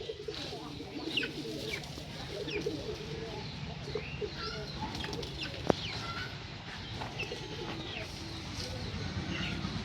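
Chickens on a poultry farm cluck and coo in a steady, busy chorus, with scattered calls at moderate distance and a faint voice in the background.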